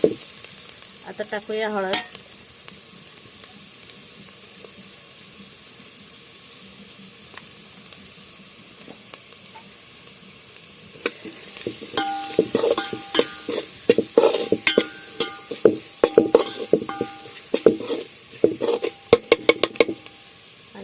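Onion sautéing and being stirred in a pan while cooking a traditional Malvani jackfruit vegetable dish, with a soft sizzle throughout and louder bursts of scraping and stirring in the second half; a voice speaks briefly early on.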